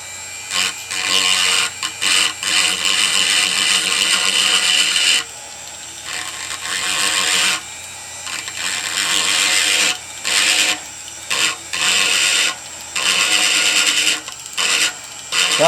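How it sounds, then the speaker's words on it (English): A Foredom 30 handpiece on a 1/4 horsepower motor drives an aluminum oxide wheel grinding a fossil sawfish from Lebanon, giving loud, close, harsh abrasive whine in repeated bursts separated by brief pauses. "the Fordham 30 handpiece with an aluminum oxide grinding wheel"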